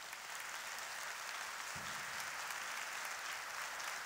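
Congregation applause in a church during a teacher appointment service, a steady, even wash of clapping heard from a distance with no speech over it.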